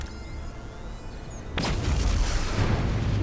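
A detonation goes off in Star Trek: Resurgence. A loud, sudden blast erupts after a quiet stretch and rumbles on to the end.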